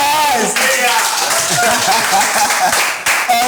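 Audience at a couples game show, husbands versus wives, breaks into sustained lively clapping and applause, dense and close, with cheering voices and shouts mixed through it.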